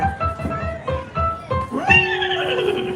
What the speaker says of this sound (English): It's Maximus, a horse of the Royal Guard, and he's after me